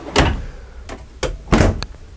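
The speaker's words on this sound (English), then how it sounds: "full extension drawer glides" Drawers in an RV kitchen, a 2011 Evergreen Everlite 32MKS travel trailer, slide on full-extension glides, making several loud, close rolling swishes and thuds in quick succession with no talking.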